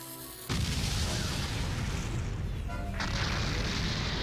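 A loud, sustained anime explosion in a One Piece episode bursts in after a brief quieter moment, then a roaring, rumbling blast continues and swells again near the end.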